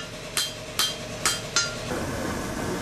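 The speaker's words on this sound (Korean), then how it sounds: "화로에 쇠를 달구고 망치로 두드려 칼을 만드는 단조" A hammer forging heated steel into a composite-steel sashimi knife at a forge, striking four sharp, evenly spaced metallic blows close by, followed by a low background hum.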